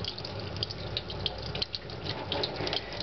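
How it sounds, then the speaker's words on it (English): A kitchen tap runs steadily into a sink while roasted peppers are peeled under the water, with a continuous splashing gush and occasional small knocks and drips, close and fairly loud. "you can turn the water on, and the water really helps you get in there"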